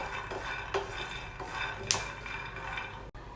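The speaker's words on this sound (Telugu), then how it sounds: "పల్లీలన్నీ కూడా ఇలా మధ్య మధ్యలో మిక్స్ చేస్తూ ఉండాలండి." Dry peanuts get stirred in a pan as they roast, giving repeated scraping and rattling with a few sharper clinks of the spoon against the metal, close up and without talk.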